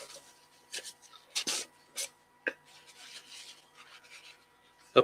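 Yorkshire grit abrasive is rubbed by hand onto a turned wooden box, making soft, brief rasping strokes in scattered bursts, close but quiet, with short gaps between them.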